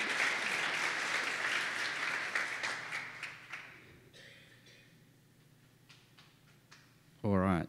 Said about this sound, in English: And another round of applause for your assistance,